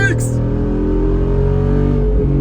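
A 2021 Jeep Wrangler Rubicon 392 with a V8 Hemi accelerating on a highway, heard from inside the cabin as a loud, continuous deep exhaust drone with steady engine harmonics throughout.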